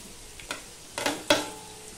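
Potatoes and onions mixed with turmeric sizzle faintly in a pan, broken by three short stirring scrapes or clinks in quick succession, close by.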